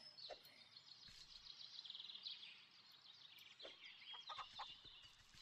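Chicken clucking in the video game Force of Nature, a steady run of fairly close bird calls and clucks over game background noise, with no talk.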